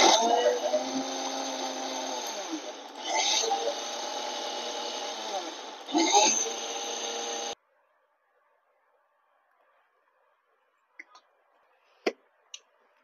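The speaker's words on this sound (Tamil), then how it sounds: "புதினா கொத்தமல்லி தழை சட்னி வந்து எதுவும் ஏரெல்லாம் சக் பண்ணாம அப்படியே அரைக்கிறோம்" A Preethi Eco Fresh mixer grinder whirs loudly as it grinds mint and coriander chutney, a steady high motor whine with two brief pulses, then stops abruptly, followed by silence and a few small clicks.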